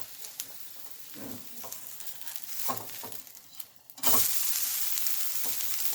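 A rice flour dosa fries in oil on a pan with a light, uneven crackle and soft scrapes, then bursts into a louder, sustained hiss partway through as the sizzle intensifies. No one speaks.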